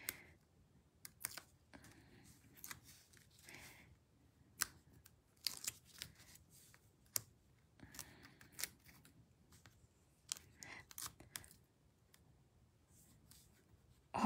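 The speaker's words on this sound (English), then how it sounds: "I have a pair of scissors dedicated for cutting the Sweet Pops." Scissors snipping Sweet Pops craft material, a series of sharp close clicks and cuts in irregular bursts with quiet pauses between, no voices.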